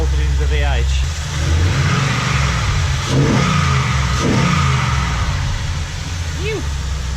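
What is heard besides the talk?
LS V8 engine running in donor ute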